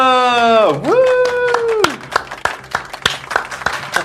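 Audience applause and clapping at a drag queen gaming show, a burst of scattered claps following a loud whooping cheer, fairly close and lively.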